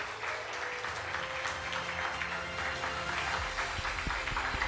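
A youth worship congregation applauds church leaders being called forward for an award, a continuous wash of clapping at moderate distance with a faint low hum and occasional thuds underneath.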